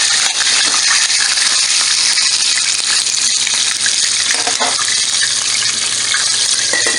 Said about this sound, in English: We're going to flip it back over onto the skin side that we started with.